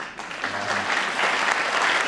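An audience at a presidential speech applauds, steady dense clapping that swells and holds, loud and close, with no voices over it.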